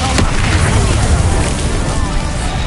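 A Confringo blasting spell explodes in Hogwarts Legacy, a loud booming burst with a sharp crack at the start and a dense roaring rumble that fills the whole moment.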